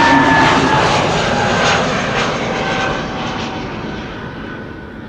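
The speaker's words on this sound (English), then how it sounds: "Over here we have Play flight 461 to Reykjavik in Iceland. It's an A320neo." Airbus A320neo jet of Play, flight 461 bound for Reykjavik, departing Amsterdam Schiphol: a loud, steady broadband engine roar with whining tones, close and continuous, slowly fading over a few seconds.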